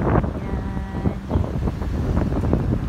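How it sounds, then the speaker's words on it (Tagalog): Strong autumn wind buffets the microphone in a low, steady rumble with gusty surges, and no voices are heard. "Malakas ang hangin."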